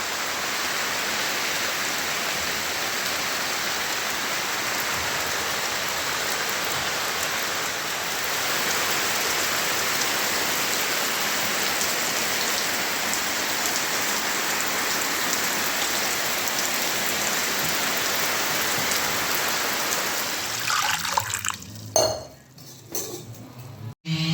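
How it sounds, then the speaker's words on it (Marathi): Steady, heavy rain pours down close by for most of the stretch, then thins into scattered drips and clinks near the end. "उद्या अनंत चतुर्दशी त्याच्यामुळं हा पाऊस आलेला असतो"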